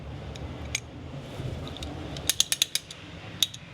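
A ratchet spanner clicks while adjusting coilovers on a Datsun Sunny, with a quick run of sharp close ratcheting clicks and a later single click over a faint background hum.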